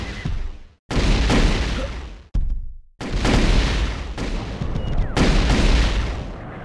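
Plasma rifle blasts in a retro-styled Terminator 2 video game, loud sustained bursts of gunfire-like booms broken by brief silent gaps, dense and close with no talking.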